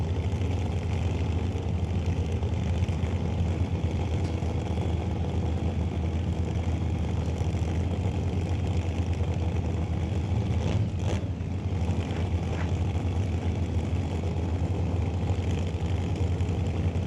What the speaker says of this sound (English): Mopar versus Chevrolet. Corvette in the left lane, the 71 Cuda in the right.